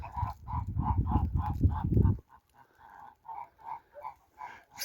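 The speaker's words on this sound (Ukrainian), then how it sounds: "Гусі." Geese honking outdoors in falling snow, a run of rhythmic, nasal calls close by, first over low rumbling noise, then continuing alone in a quieter, repeating pattern.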